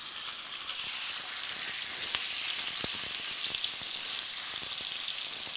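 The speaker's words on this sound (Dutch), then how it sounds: "De kip gaan we bakken in de hete olie." Chicken pieces fry in very hot oil, giving a steady, close sizzle with occasional small pops and crackles, no talking over it.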